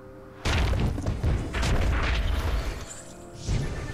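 Eruption Shot attack effect from the Pokemon TCG video game, played with a Coalossal VMAX deck: a sudden loud booming burst followed by crashing, rumbling impact noise that sustains and swells again near the end.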